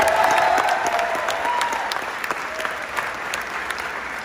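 Audience applause at a 2022 high school band senior recognition, a steady wash of clapping from a crowd that holds for several seconds and slowly thins, with faint voices underneath.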